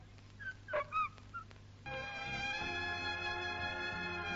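A dog lets out a few short high whimpers and yips, close and fairly quiet, before a droning tonal background swells in and continues.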